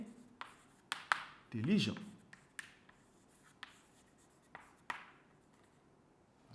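Handwriting during a French grammar lesson, with several short scratchy strokes and taps of the pen or chalk on a surface while a teacher speaks over it at close range.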